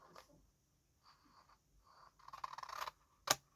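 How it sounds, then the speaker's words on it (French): Quiet snips and scrapes from scissors cutting by eye on a craft project: a few soft cuts with pauses, then a denser run of snipping and one sharp final snip, close and faint, no voices. "Je vais couper à l'œil."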